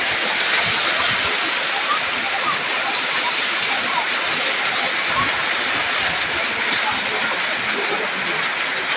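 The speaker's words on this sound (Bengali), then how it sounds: "এই এদিকে বৃষ্টি পড়ছে" Steady rain falls in a continuous, dense hiss that runs unbroken from start to finish, loud and close.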